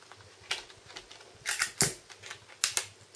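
A plastic back cover snaps onto a Samsung Galaxy S4 (i9500/i9505) during reassembly after an LCD replacement, giving a run of sharp, close clicks and pops in an irregular rhythm, with the loudest snaps clustered near the end.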